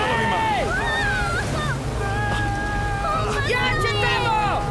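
Stormy sea waves in an animated series surge as a steady, loud rushing roar with wind, running continuously beneath excited voices talking over the whole stretch.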